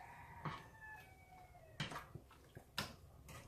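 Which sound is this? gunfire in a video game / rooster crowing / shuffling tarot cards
rooster crowing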